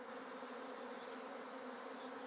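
Swarm of honeybees forming a cloud, a continuous dense buzzing drone heard steadily throughout without any voices.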